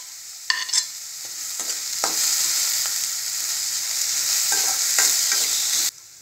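Onions sautéing in a pan for a mini puri egg podimash, a steady close sizzle with spoon stirring scrapes and taps scattered throughout, cutting off near the end; no one talks.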